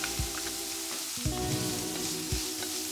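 Diced pancetta and onion sautéing in olive oil, a steady close sizzle and crackle with a few soft thuds of stirring, no talking.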